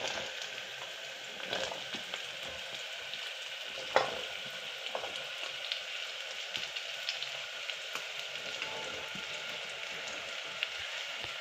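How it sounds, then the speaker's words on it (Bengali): Onions and potatoes fry in a pan with a steady crackling sizzle, broken by occasional scraping knocks of stirring, one sharper clack near the middle; no voices. "এবার 1 মিনিটের মতো এটা নেড়ে নেবো।"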